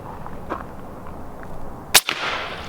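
A single sharp air rifle shot cracks out over quiet outdoor background near a tree and water, followed by a short echoing tail.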